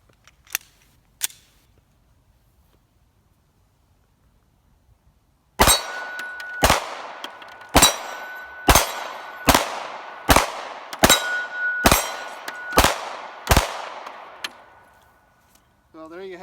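A Walther Creed pistol firing: two small clicks, then a rapid string of about ten loud, sharp shots at an even pace, each one ringing with a metallic tail.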